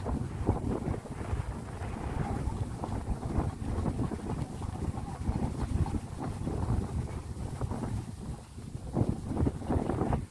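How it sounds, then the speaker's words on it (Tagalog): Strong wind blusters beneath the Cansaga Bay Bridge, buffeting the microphone with a constant low roar and gusty rumble. Water movement sits in the background and no one speaks. "Lakas ng hangin guys."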